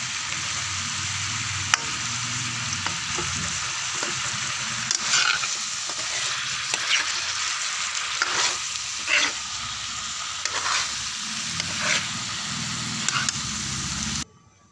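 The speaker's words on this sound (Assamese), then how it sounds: "এতিয়া এই মছলাখিনিতে ফুলকবিখিনি সিজিব দিম" Cauliflower and potato cook in masala for a fish curry, sizzling loudly and steadily while a spoon stirs and scrapes the pan at irregular intervals, close up, until the sound stops suddenly.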